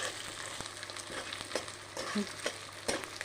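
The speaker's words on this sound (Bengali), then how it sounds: "কাঁচা টমেটো দিয়েছি ভালোভাবে একটু নাড়াচাড়া করে নেব" Raw tomatoes stirred into winter vegetable khichuri in a pan, with steady soft frying sizzle and repeated spoon scrapes and taps against the pan, close and fairly quiet.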